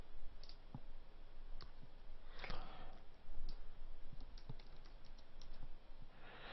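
Close computer keyboard typing and key clicks, including Alt-Tab presses to switch windows, come as sparse, irregular taps over a steady low hum, with a small burst of clatter near the end.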